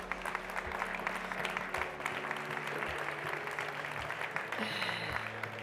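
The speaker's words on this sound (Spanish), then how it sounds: "un aplauso para ellos" Audience applause at a Cercle d'Economia business conference on Catalan and Spanish industry, a steady, dense wash of clapping that holds at an even level throughout with no talk over it.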